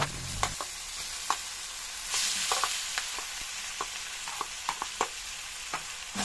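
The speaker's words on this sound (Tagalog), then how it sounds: "At ilalagay na po natin itong kalahating kilo ng pork giniling." Half a kilo of ground pork and tomato fry quietly in a pan, with a soft sizzle broken by repeated sharp scrapes and clacks of a spoon stirring at an uneven pace.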